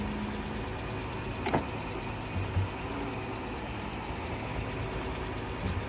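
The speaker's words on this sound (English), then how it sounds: "you heard the engine, so it actually sounds pretty daggone good on this one" A jump-started car at a police towing auction idles at a low, steady rumble for several seconds, moderately quiet, with a couple of faint clicks along the way and no talking.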